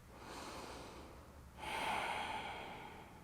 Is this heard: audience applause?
no